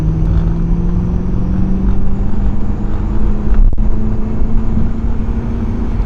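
Non-turbo BMW M3 engine fitted with a large carbon fiber intake, idling loud and steady with a low hum that climbs slightly in pitch, plus a brief click midway.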